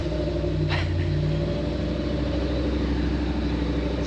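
A Ford F-550 Bison overland truck camper with stock exhaust runs after starting, a steady low engine rumble with a brief sharp click near the start, then an even idle.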